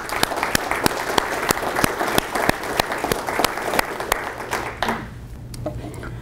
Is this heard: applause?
yes